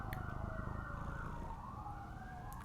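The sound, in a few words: emergency vehicle sirens outside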